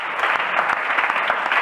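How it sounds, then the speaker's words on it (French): A church congregation claps together in praise of God, a dense, loud burst of steady applause with no voices standing out. "Acclamons pour la gloire de notre Dieu."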